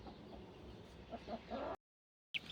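Soft, close clucking from a mature Aseel rooster in short bursts, with a gap of silence before one more cluck.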